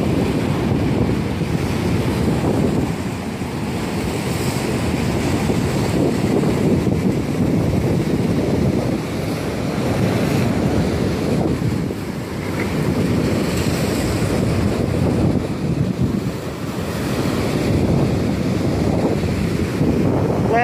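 Loud, continuous roar of ocean surf at a jetty, with surging waves washing over and heavy wind buffeting the microphone throughout.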